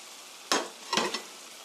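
Chicken pieces and sliced tomatoes stir-fried in a pan, heard as two brief scraping, sizzling bursts of spatula movement about half a second apart, fairly close, with quiet gaps between.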